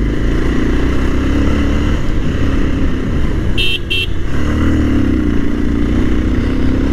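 A motorcycle rides steadily along the Jhalokathi–Barisal highway, its engine and wind roar loud and continuous, with a brief double horn toot midway through.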